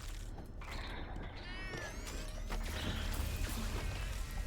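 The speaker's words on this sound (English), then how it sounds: "Like it was supposed to be part of its like regular cat sound effect, but did not trigger correctly." A cat enemy in the game Death Must Die lets out a short meow-like cry amid dense, steady game noise, with sweeping tonal effects and clatter running throughout.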